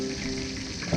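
A cooking pot of adobong saluyot in fish bagoong, Ilocano style, bubbles at a boil with a dense, close hiss and a brief stir at the end.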